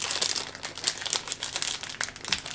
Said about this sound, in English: Some of the packaging isn't that easy to open up.